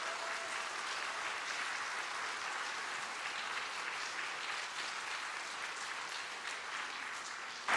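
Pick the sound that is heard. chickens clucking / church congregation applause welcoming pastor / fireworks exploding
church congregation applause welcoming pastor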